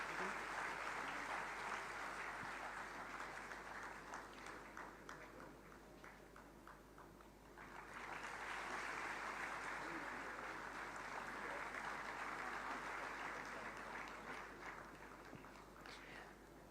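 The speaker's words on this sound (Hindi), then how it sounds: "कृपया तालियों से स्वागत करें" Applause from a large audience welcoming an award recipient at a medical institute's foundation day ceremony, sustained clapping with a brief dip in the middle before swelling again, heard from some distance in a reverberant hall.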